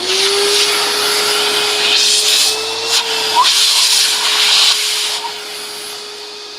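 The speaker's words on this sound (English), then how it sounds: "I'm just putting the Hoover on." A Hoover vacuum cleaner runs loud and close in a woodturning workshop, a continuous steady whine with a slight wobble in pitch and a rushing airflow, heard alone.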